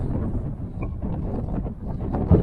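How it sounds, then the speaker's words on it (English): Steady wind buffeting a microphone on an exposed coastal valley path in North Devon, a constant low rumble with gusty surges and a brief louder thump near the end. "It's very windy"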